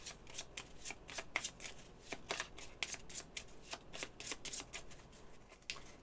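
Cards for the Guillotine card game shuffled by hand, quiet and close, with a series of soft riffles and taps at an irregular pace and no speech.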